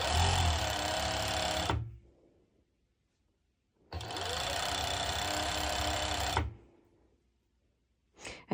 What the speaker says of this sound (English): And when I'm serging, I'm not pulling.